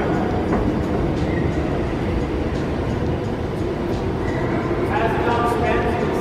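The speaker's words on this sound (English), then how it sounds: "There's an 18 horsepower motor behind the AC unit over there" An 18 horsepower motor turns a large telescope along an upside-down railroad track: heavy, continuous rumbling, with faint squeals and clicks riding over the steady low drone.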